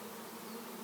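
A swarm of honeybees buzzes steadily around a hand during a swarm capture, a close, continuous droning hum with no pauses for the whole moment.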